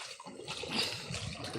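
Water bubbles and gurgles up out of the ground on a farm field, a close, continuous churning with a liquid, splashy texture.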